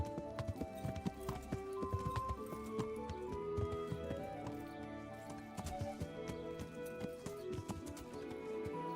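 Quick, continuous clip-clop of horse hooves at a running pace in the video game Kingdom Come: Deliverance, fairly faint, with a busy layered background of tones and noise but no talking.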